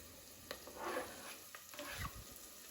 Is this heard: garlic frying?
yes